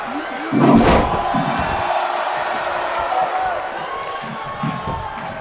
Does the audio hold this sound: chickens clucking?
no